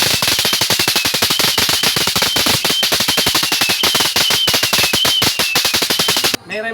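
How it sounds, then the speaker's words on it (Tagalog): Rapid, loud string of sharp pops from a firecracker-style Christmas light decoration, crackling continuously like a burst of gunfire for several seconds before cutting off abruptly. "yung firecracker na pumuputok na maingay na nakakagulat talaga"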